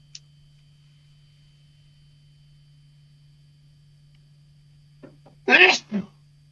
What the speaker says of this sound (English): Oh, I think I have to sneeze.